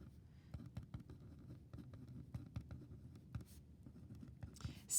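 Handwriting during a geometry lesson makes faint, close scratching strokes in an uneven rhythm over a low background hum, with no talking.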